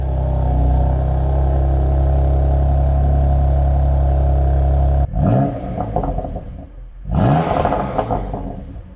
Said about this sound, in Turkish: Evet, cold start'tan bahsediyorum.